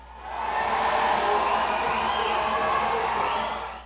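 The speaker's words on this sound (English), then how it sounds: "The second half began with a neat piece of skill from Guaya's Candace Garcia, which brought the crowd to life." A crowd at a football match cheers in a broad, sustained roar that swells and fades over a few seconds, heard at a distance with no clear individual voices.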